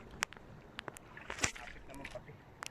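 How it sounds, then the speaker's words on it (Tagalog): Oars dipping and pulling on an open boat with its engine off, soft splashes and knocks at irregular intervals, faint against quiet water. "Tapos sinasagwanan na natin pa punta sa kabilang buya."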